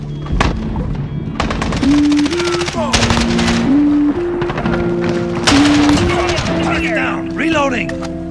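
Rapid machine gun bursts in a video game, loud and repeated across the whole stretch, mixed with game music tones and other battle effects; a voice talks over the gunfire.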